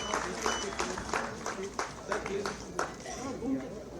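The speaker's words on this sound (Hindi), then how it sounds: "हम जोरदार तालियों से अपने सम्मान सत्कार के भाव समर्पित करें।" Scattered clapping from a modest crowd at a highway project foundation-stone ceremony in Dabok, Udaipur, uneven and patchy, with individual claps standing out rather than a full roar.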